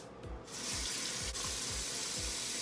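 Water runs steadily from a bathroom sink tap while facial cleanser is rinsed off, a continuous hiss of flow with soft splashing from hands, fairly close and alone.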